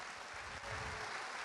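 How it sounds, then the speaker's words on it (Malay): Audience at a corporate gathering applauding, a faint, steady wash of clapping heard from a distance. "satu tepukan gemuruh untuk mereka"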